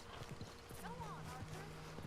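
Horse hooves clip-clop in a quick uneven patter and an agitated horse gives a wavering whinny midway, set in the video game Red Dead Redemption 2, faint and with voices talking over it.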